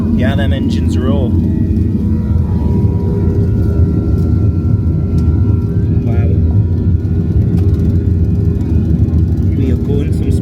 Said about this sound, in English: them engines roar